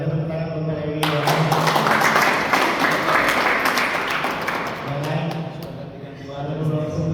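A church retreat crowd of the Gereja Toraja congregation claps for Pak Lewi: a dense burst of applause lasts about four seconds, with someone speaking just before and after it.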